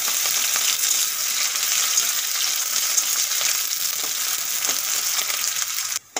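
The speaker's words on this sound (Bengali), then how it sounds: "এখন দিয়ে দেব একটা কেটে রাখা পেঁয়াজ" Chopped onion frying in a pan for a green banana bhorta gives a steady, close, dense sizzle with faint crackles that holds even for about six seconds, then cuts off abruptly.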